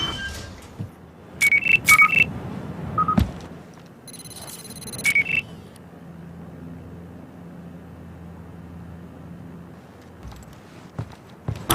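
Phone keypad tones and beeps sound in a Battlefield Hardline video game cutscene, with short bursts of dialing, a brief ringing burst, then a quiet low hum. There is no talk.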